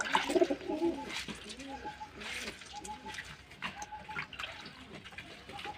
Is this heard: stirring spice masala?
no